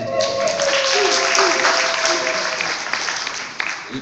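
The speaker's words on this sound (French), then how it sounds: "On applaudit" A crowd at a celebration in a hall claps warmly and continuously for several seconds while a voice speaks over the applause.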